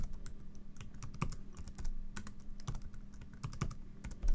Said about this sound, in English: Be sure to put your password in there.